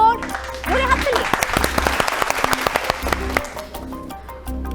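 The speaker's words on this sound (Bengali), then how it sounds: "সঠিক উত্তর, ধরে হাততালি" A studio audience on a Bengali family game show claps after a correct answer. Steady applause with sharp individual claps runs over bright, loud music stings.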